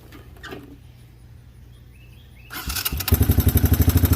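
A 1985 Honda Big Red three-wheeler being started: a quiet stretch with faint rustling gives way to cranking, and then the engine catches into a loud, rapid, steady putter close by.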